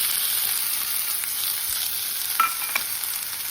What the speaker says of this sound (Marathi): आता मी हा जो बारीक चिरलेला कांदा आहे याच्यामध्ये घालते